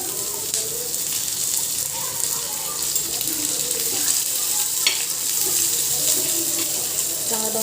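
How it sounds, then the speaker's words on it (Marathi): Onion frying in a spoonful of oil on a tava over a medium gas flame makes a loud, continuous hiss and crackle with occasional stirring scrapes, and no one speaks over it. "इथे आता मी कांदा परतून घेते तव्यावर त्यात थोडंसं एक चम्मच आपण तेल टाकून घेऊया"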